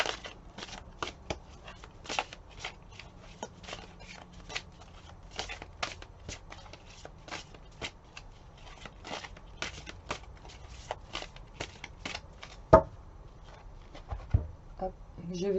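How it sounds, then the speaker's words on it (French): Tarot cards are shuffled close up in a long run of quick, soft riffling flicks, faint and steady, with a couple of louder taps near the end. "je vous invite à vous concentrer pendant que je mélange les cartes"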